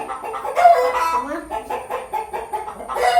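Chickens cluck and a rooster crows nearby, several loud overlapping calls in quick succession with farmyard noise around them.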